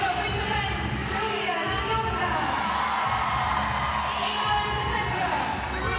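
A big crowd cheers and applauds at a Netball World Cup 2019 match between England and Uganda, with loud, continuous roaring, whoops and high-pitched shouts filling the arena throughout.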